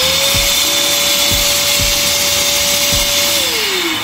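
An electric PC dust blower running at its first power level gives a loud, steady high-pitched whine and rushing air. A few low knocks sound under it, and the pitch drops as it begins to wind down near the end.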